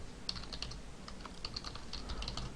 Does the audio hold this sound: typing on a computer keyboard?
yes